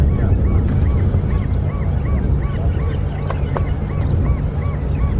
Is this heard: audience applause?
no